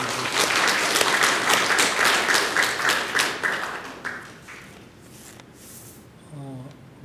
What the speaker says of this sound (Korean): 뜨겁게 박수 보내주십시오.